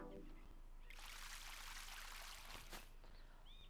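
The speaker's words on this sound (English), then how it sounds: "Let me go ahead and water that." A plant is watered in the video game Ooblets, heard as a soft splashing pour lasting about two seconds over quiet game ambience, with a faint chirp near the end.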